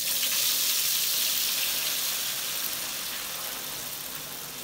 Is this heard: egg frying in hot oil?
yes